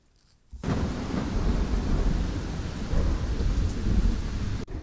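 Heavy rainy-season downpour in a neighbourhood across the country, a dense steady roar of rain with low thunder rumbling beneath, starting abruptly after a brief quiet moment and holding loud and continuous throughout.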